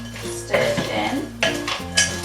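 A spatula stirring a chocolate mixture in a bowl for Easter treats, giving short scraping strokes and light clinks against the bowl in a quick, uneven rhythm, close up.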